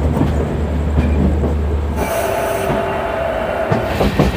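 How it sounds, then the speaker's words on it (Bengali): A Howrah to Puri train pulls away, heard from on board as a loud, continuous rumble with rail clatter and a shift to a higher, smoother roar partway through. "5 মিনিট লেটে ট্রেন আমাদের ছেড়ে দিল"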